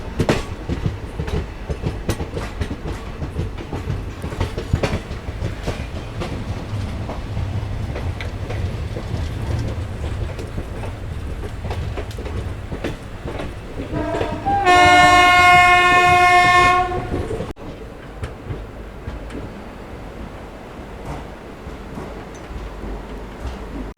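A night train between Digha and Kolkata rumbles steadily past at speed with a constant rushing roar, and a loud horn blares for a couple of seconds midway before the rolling noise continues.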